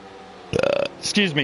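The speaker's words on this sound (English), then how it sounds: "Yeah, that was my, sorry, it's my Saturday night late night burp" A single loud, rattling burp bursts out close to the mic, followed right after by someone talking.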